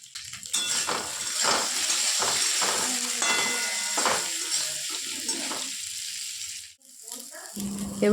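Potatoes and eggplant frying in a pan for a fish curry, with steady close sizzling, occasional clinks of utensils against the pan, and a brief lull near the end.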